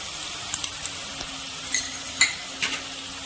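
Ginger and garlic paste fry in a pan with a soft, steady sizzle, broken by a few light clinks and scrapes of stirring close by.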